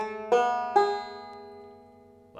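A clawhammer banjo playing notes that ring out one after another across the strings, plucked twang with decaying overtones and a fresh attack about every half second, with no talking.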